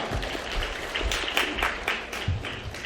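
Wedding guests applaud for the father after his speech at the ceremony, a moderate crowd clapping continuously with a few louder claps standing out, no voices over it.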